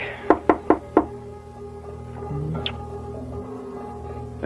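Four quick knuckle knocks on a wooden door in a 1973 WKBW radio play remake, sharp and close in a steady rhythm, followed by a dark, quiet hum.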